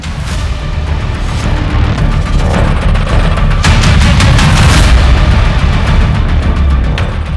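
Gunfire in a Hindi TV crime drama scene rings out as a loud, dense burst of booming shots and sharp cracks, clustered mid-clip over a constant heavy rumble, with no talk.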